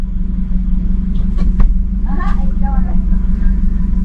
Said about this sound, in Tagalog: nakasakay tayo sa sasakyan ng barangay